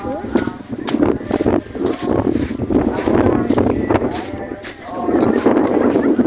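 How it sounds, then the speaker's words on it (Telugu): Strong wind blows on an outdoor temple trip, roaring and buffeting steadily across the whole stretch with gusty rises and falls. "గాలి మాత్రం విపరీతంగా అయితే ఉంది. చాలా గట్టిగా అయితే ఉంది."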